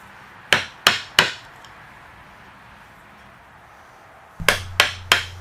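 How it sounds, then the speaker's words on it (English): Wood chisel driven by mallet into a wooden mortise for a carving bench: three sharp, evenly spaced blows, a quiet pause, then three more strikes, close and loud, no talking. "when you start chiseling out the waste, don't be too delicate"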